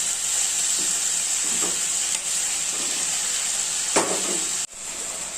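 Onion, tomato, salt, asafoetida, mint and coriander sauté in a hot pan for chutney, giving a steady, close sizzle with a few soft stirring scrapes before it cuts off abruptly near the end.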